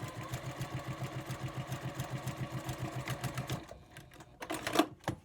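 A home sewing machine stitches a quarter-inch seam along quilt binding with a steady, fast mechanical pulse, close and clear, then stops, followed by a few light handling clicks.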